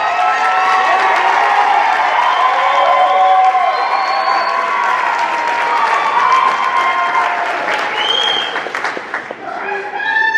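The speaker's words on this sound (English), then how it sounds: "can certainly give them one more round of applause." An audience at a mid-year graduation ceremony gives the standing graduates a loud round of applause, mixed with whoops and cheers, tapering off toward the end.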